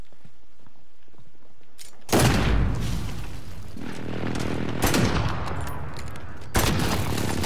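SP-R 208 sniper rifle in Modern Warfare firing three loud, widely spaced shots, each a sharp boom with a ringing tail, after a quiet lead-in.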